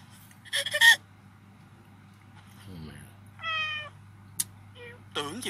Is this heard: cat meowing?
yes